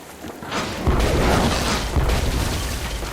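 Cannon fire at sea in the Tales of Monkey Island game: a soft onset, then a heavy boom that rolls into a sustained rumbling roar with a second thump partway through, fairly loud and without speech.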